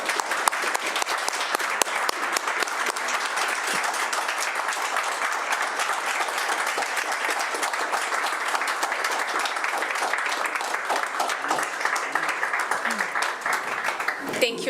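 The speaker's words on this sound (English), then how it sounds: "believe they deserve a large round of applause" Sustained applause from people gathered at a city council meeting in Laramie, Wyoming, a steady dense patter of many hands clapping at even loudness for about fifteen seconds, with no talk over it.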